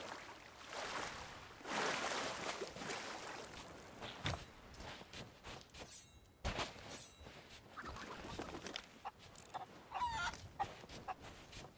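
Chickens clucking in the pirate video game Sea of Thieves, a scattered run of short clucks amid busy game sounds of creaking and sloshing water throughout.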